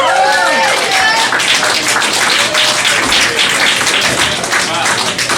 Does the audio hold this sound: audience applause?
yes